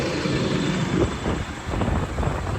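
DTZ 1404 tractor rolling onto a weighing scale: a continuous loud engine rumble and broadband drone with no speech over it.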